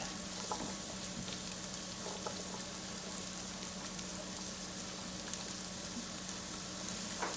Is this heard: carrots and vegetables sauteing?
yes